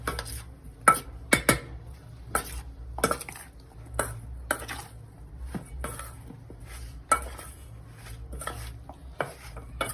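Soaked potato fries are tossed with red chilli powder in a bowl, giving scattered clinks and scraping knocks of utensil against the dish, irregular and close, with quiet gaps between strikes.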